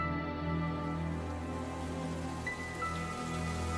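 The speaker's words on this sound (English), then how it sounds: "The skies over London are thick with the freezing rain." Steady freezing rain falls over a city street on a November night, a dense, even patter of drops on hard surfaces with a low sustained rumble beneath, with no voices.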